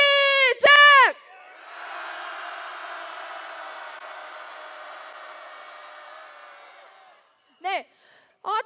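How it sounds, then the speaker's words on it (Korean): A large outdoor protest crowd in Busan lets out a sustained collective roar of shouting, a broad, steady wash of voices lasting about five seconds. An amplified voice speaks just before it and again after it fades. "그러면 함성 한번 질러보겠습니다."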